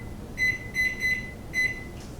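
A kitchen timer being set for cooking cod gives four short electronic beeps in an uneven rhythm, close and clear over a quiet kitchen background.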